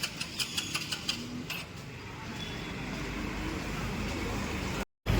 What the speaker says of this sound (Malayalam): അപ്പോൾ നമ്മൾ ബസ് സ്റ്റാൻഡിലേക്ക് കയറിയിട്ടുണ്ട് കേട്ടോ